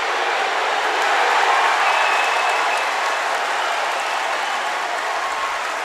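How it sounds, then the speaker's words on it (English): Crowd roaring from an adjoining mat at a judo Grand Slam event in Tel Aviv, a broad sustained cheer that swells early and holds steady at a distance for several seconds. "There's a huge cheer from the adjoining mat"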